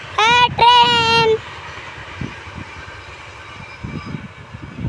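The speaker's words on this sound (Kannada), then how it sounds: "ಟ್ರೈನ್ ಬಂತು." A train passes by: two loud, drawn-out horn blasts open the sound, then a steady low rumble of rolling wagons follows at moderate level.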